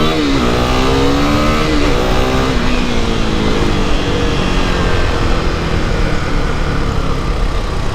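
A KTM RC390 motorcycle engine revs hard and steadily, a loud, close, continuous roar with rising pitch sweeps early on, then holding at high revs throughout with no voices.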